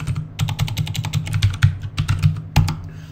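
Typing on a new computer keyboard, with a steady, fairly close run of quick key clacks that are uneven in rhythm and heard with no voice over them.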